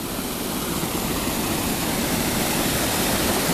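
Strong water rushes through at a pond in early spring, a loud, dense, unbroken roar with no pauses or voices.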